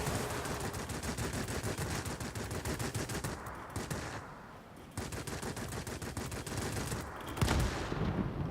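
Machine-gun fire in a WWII air combat game, with a dense, steady stream of rapid rattling bursts that goes on almost without a break, loud and sustained, with a brief lull in the middle.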